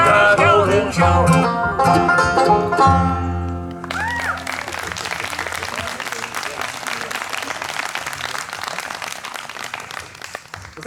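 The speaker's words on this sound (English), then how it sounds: "We appreciate that kind applause." Audience applause breaks out at an outdoor summer evening bluegrass concert in Sherwood, Oregon, rising as the band's final sustained chord fades, then continuing as a steady, fairly loud wash of clapping.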